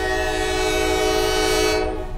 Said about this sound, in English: Wow, look at that big locomotive.